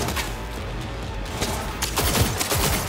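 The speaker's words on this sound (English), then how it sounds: "Who's shooting at me from where?" Cyberpunk 2077 firefight with dense bursts of gunfire aimed at the player, a steady clatter of shots and impacts that swells louder and sharper toward the end.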